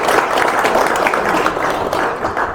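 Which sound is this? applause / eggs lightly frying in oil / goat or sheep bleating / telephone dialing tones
applause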